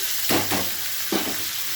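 Onion frying with panch phoron in hot oil for a Bengali taro and prawn dish, a steady close sizzle broken by two brief scraping stirs, with no voices.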